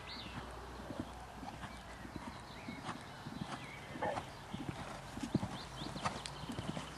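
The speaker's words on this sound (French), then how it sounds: "Fais-moi une demi-volte là, et on fait un peu de galop à fond." A horse working in a riding arena, hooves giving a steady rhythmic clip-clop at middle distance, with snorts and a faint whinny, under light background noise.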